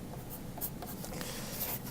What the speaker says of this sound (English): put my name on the back of my white sheet of paper